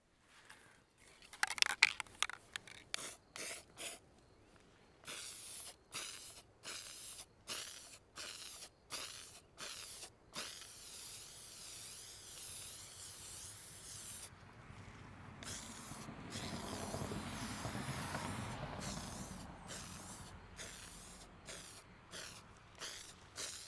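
Quiet, rapid bursts of aerosol spraying, then a longer sustained hiss of spray paint, with a few soft clicks between.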